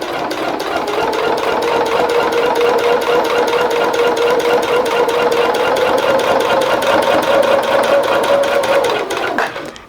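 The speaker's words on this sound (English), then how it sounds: "and then just stitch the seam" A sewing machine stitching a rag quilt seam runs in one steady, loud, continuous burst of rapid even stitching for nearly ten seconds, then stops abruptly, with no talking.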